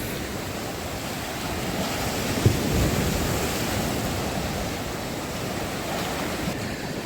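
A steady wash of Black Sea surf near a pier in Arcadia, Odesa, mixed with gusty wind noise, continuous and even, without distinct breaking crashes.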